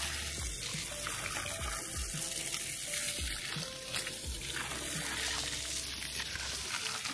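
Water gushing steadily from a farm borewell, a continuous loud splashing rush with a low throbbing pump underneath, close by and without speech.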